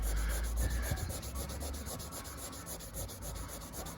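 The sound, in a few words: polishing Range Rover L322 headlight with cutting paste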